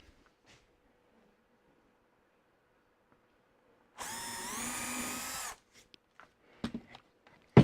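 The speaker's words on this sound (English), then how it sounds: "drill a hole in that one as well" A power drill bores a hole in wood, one steady loud whirring burst lasting about a second and a half after near silence, followed by a few faint knocks and handling sounds.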